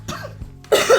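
A single person coughs up close, a couple of harsh bursts with a brief throat-clearing quality, loud and alone without talk.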